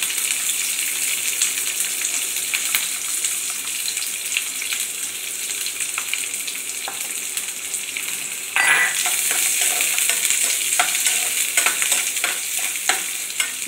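Capsicum and onion sauté in hot oil for a kadai paneer dish. A dense, steady sizzle is broken by scraping stirs, and it grows louder and brighter about two-thirds of the way through.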